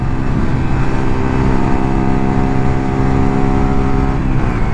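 Yamaha Virago XV125 V-twin 125cc chopper motorcycle cruising on an open road, a loud, steady engine drone with wind rush heard from the rider's position, constant throughout.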